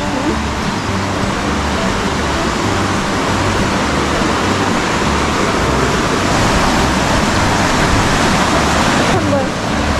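A waterfall in Dartmoor National Park pours with a constant, loud rushing roar that fills the whole stretch without a break.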